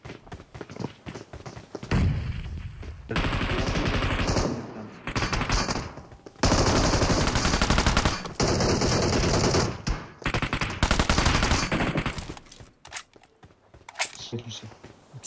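Long rapid bursts of automatic gunfire from a video game, loud and dense with short gaps between volleys, while players talk over the shooting.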